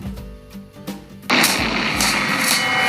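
Several sharp bangs and thumps, then a loud, sustained roaring blast of noise that fills the rest of the clip, like a big explosion.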